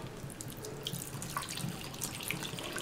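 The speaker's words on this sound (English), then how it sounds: "I hate to pour beer out" Kilkenny Irish Cream Ale pours out of a can in a steady, splashing liquid stream, close and fairly quiet, with small gurgles and drips and no voices.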